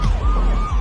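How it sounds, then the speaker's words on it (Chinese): A wailing police car siren in a Taiwanese gangster film, rising and falling steadily over a deep low rumble, fairly loud and with no voices over it. "警车的声音呜呜的响起来了。"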